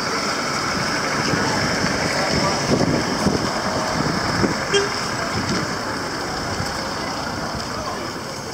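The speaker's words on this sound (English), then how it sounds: "This is the vehicles that comes from the Tabokoto, Brikama and Lemon area" Traffic on a main highway in The Gambia, a steady engine rumble with vehicles idling and moving past nearby, a brief horn toot and faint voices in the background.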